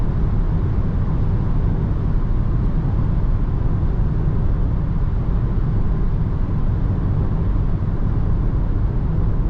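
A 2024 Citroen C4X drives over rough asphalt at highway speed, a steady broadband roar of tire and wind noise that stays even and unbroken, with no voices.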